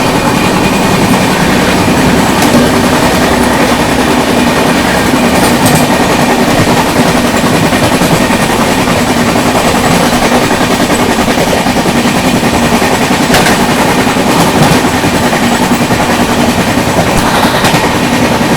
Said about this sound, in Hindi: ये रही आप लोगों की इज्जत नगर Gorakhpur express parallel overtaking Arunachal AC superfast